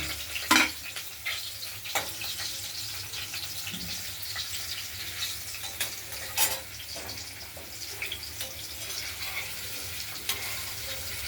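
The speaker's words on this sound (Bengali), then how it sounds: "পনিরটা ভাজা হয়ে এসছে, আর কটা আছে" Steady sizzling of paneer frying in a pan, with occasional clinks and scrapes of a utensil, close and moderately loud.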